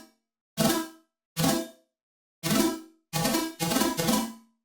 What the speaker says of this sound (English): It's a very organic chord synth